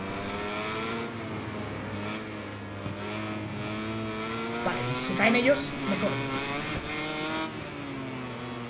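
A racing motorcycle in MotoGP 21 whines steadily with rising and falling engine pitch, a brief burst of clatter midway, while someone talks over it in Spanish.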